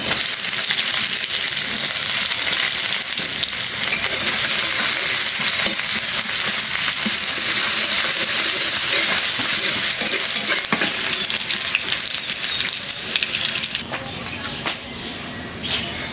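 Dried chili and garlic frying in a pan, a loud continuous sizzle with stirring scrapes throughout, easing slightly near the end while a voice talks.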